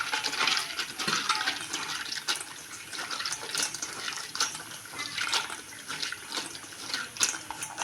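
Cleaned dry fish are rinsed by hand in a vessel of water, a continuous close splashing and sloshing with small clinks and no talk.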